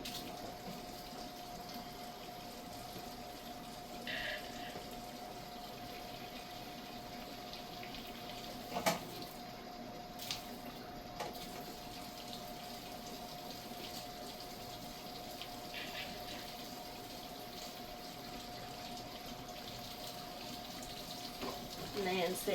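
Water runs steadily from a tap for rinsing at a dairy or milking sink, a continuous close hiss lasting throughout with occasional clinks and handling noises.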